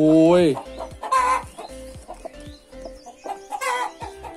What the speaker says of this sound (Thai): นี่ครับแม่ไก่ตัวใหม่ ยังยังไม่ค่อยชินกับมือนะครับ